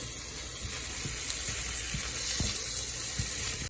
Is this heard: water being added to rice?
yes